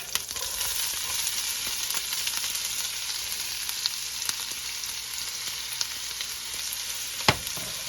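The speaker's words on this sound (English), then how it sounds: "we had a couple of errant onions in there, they're sizzling" Onions sizzle steadily in a hot pan while cooking meatball chili, a constant crackling hiss with scattered pops, one sharper clack near the end.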